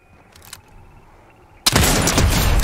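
Barrett sniper rifle fire in Fortnite: after a quiet stretch, a sudden loud blast cuts in and is followed by dense, sustained gunfire and booms.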